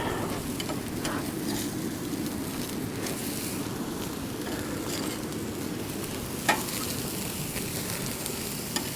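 Burger patties frying on a camp grill outdoors in the rain, a constant crackling sizzle blended with the patter of rain, with a single sharp clink partway through and no voices.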